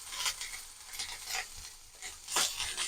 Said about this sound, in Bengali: সিম আলু বেগুন একসাথে ভাজা হচ্ছে।